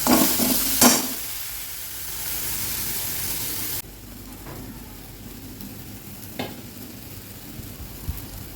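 Spices fry in a pan with a steady crackling sizzle and occasional stirring scrapes, loud at first, then quieter and softer after a few seconds, with a few louder stir knocks.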